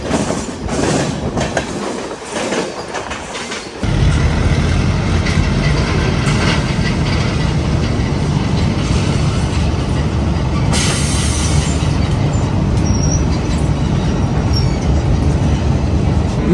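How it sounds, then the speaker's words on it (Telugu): A passenger express train runs on railway tracks in a loud, continuous roar with rhythmic clickety-clack and brief wheel squeal, heard from on board as another train approaches. "మనకి ఎదురుగా ఏదో ట్రైన్ అయితే వస్తుంది."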